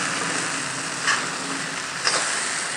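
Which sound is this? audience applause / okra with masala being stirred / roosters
okra with masala being stirred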